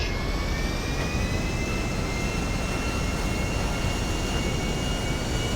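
A steady, loud military jet engine roar with a high whine in Grand Theft Auto V, continuous and unchanging, with no voices.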